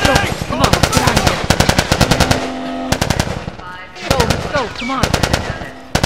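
Rapid gunfire in The Last of Us, with loud, close bursts of automatic shots that stop and start in clusters, while voices shout over the shooting.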